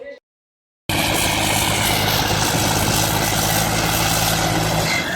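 A tractor engine fitted with a GS Turbo turbocharger runs loud and steady at close range after a brief silence, holding an even droning hum without a break.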